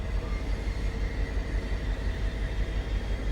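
MP36PH-3C locomotive in Train Sim World 5 on the San Bernardino to LA Union route, rolling slowly with a steady low rumble and rhythmic rail noise, loud and continuous with no talking.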